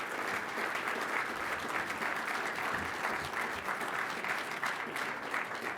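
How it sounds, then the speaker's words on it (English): Steady, fairly loud applause from a crowd fills the whole stretch, a dense wash of clapping with no voices standing out. "And one more round of applause"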